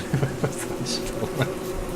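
Bees buzz in the video game Don't Starve Together: a wavering insect drone under other soft in-game sounds, with brief pulses rising and fading over about two seconds.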